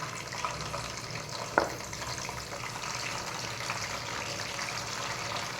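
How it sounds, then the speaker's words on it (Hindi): Cauliflower sizzles and crackles steadily in hot oil in a home kitchen pan, with a single sharp clink from a utensil partway through. No voices are heard. "अब मैं इसमें गोभी तल रही हूँ।"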